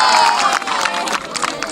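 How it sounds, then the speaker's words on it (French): An indoor school audience cheers and applauds for the coach of a girls' team, a loud burst of mixed voices and clapping that stays close and dense throughout. "On applaudit."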